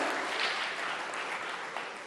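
Steady applause from a crowd welcoming the state chief minister at a government housing scheme event in India, a dense wash of clapping that holds evenly for a couple of seconds without voices.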